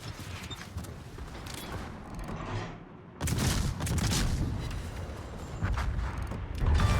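An enemy destroyer blows up in World of Warships, a sudden loud blast about midway that rolls into sustained rumbling and crackling after quieter mechanical game noise.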